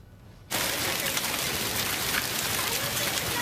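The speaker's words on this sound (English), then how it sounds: "Hail pounding the sidewalks today here in Cumberland County." Hail pounding sidewalks in Cumberland County during a spring hailstorm, a dense, constant hiss-like clatter that starts abruptly after a brief quiet moment and continues loudly to the end.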